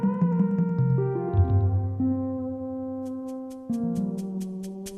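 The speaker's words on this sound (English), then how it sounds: "Hear that shaker going?" Super Mario 64 game music with a rapid shaker pattern ticking high over descending and sustained synth tones, the shaker entering in the second half as a steady run of crisp bursts, fairly quiet and with no talking.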